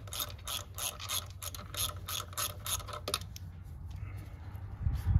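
Hand ratchet removing small bolts on the transmission of a Ford F150 during neutral safety switch replacement, a close run of rapid clicking strokes for about three seconds, then quieter handling noise.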